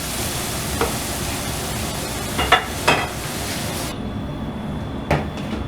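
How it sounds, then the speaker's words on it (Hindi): Garlic and ginger paste frying in a pan for chicken do pyaza, a steady sizzling hiss with a few sharp clinks and scrapes of stirring scattered throughout, no one speaking. "गार्लिक और जिंजर का पेस्ट डालने के बाद। तो तकरीबन 20 सेकंड इसमें पका लेंगे"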